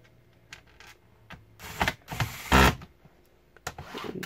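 Small screws being tightened inside an Acer Aspire E5 576 laptop during a repair at home, giving soft close ticks, clicks and brief scraping bursts at an uneven pace, with no talk.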